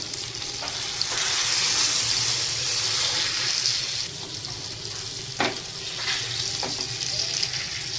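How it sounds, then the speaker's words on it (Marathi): Piranha fish frying in oil in a pan after being flipped, a loud continuous sizzle with occasional spatula scrapes and pops, no talking. "आता आपण मासा पलटून घेणार आहोत"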